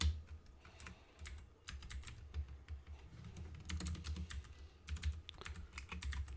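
Fingers type quickly on a computer keyboard, a close, quiet run of uneven clicking keystrokes with short pauses and no voices.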